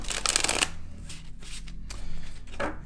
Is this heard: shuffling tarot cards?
yes